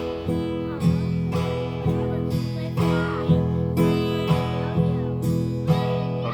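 A fingerstyle guitar strum played with the index fingernail and the thumb pad repeats in a steady, even rhythm. The chords ring close and full, with no talking.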